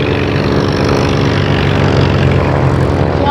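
A silver propeller aeroplane flown by a local pilot drones steadily and loudly overhead at an airshow, a constant engine roar with no break.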